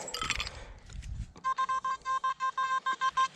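On a beach, a metal detector sounds its signal: after brief rustling and handling noise, a loud string of about a dozen evenly spaced electronic beeps pulses in quick rhythm.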